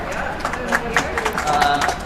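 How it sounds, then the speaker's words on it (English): Applause in a curling club warm room during a bonspiel, scattered handclaps from a small crowd, mixed with chatter and voices nearby, moderately loud with uneven clusters of claps. "Applause in the warm room for sheet 1 game"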